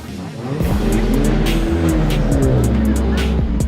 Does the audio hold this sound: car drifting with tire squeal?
yes